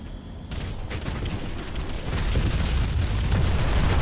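Bombardment of an enemy structure in the strategy game Ground Control: a deep, loud explosive roar with crackling debris rolls on continuously and grows heavier toward the end, with no talk.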